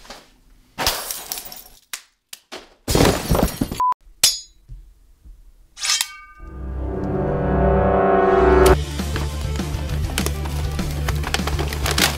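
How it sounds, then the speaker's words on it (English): Plastic packaging of a Red Hulk toy figure cracking and tearing during unboxing, several sharp broadband snaps and crinkles in bursts, then a steady busy noise takes over the second half. "that's that plastic crack, it's called"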